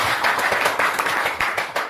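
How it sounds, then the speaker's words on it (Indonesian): Students in a Quran and Hadith classroom clap their hands together, a short burst of quick, fairly close claps with irregular rhythm and no talking over it. "Untuk semangat semuanya, tepuk tangan"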